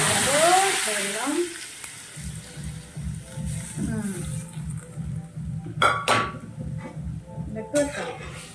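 Cumin seeds tempering in hot oil for dal sizzle steadily alongside clinks of a spoon against the pot, with someone talking over much of the cooking.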